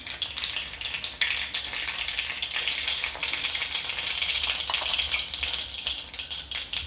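Mustard seeds and curry leaves sizzle and crackle in hot oil in a home kitchen pan, a dense, steady frying hiss with scattered pops that runs for several seconds without talk.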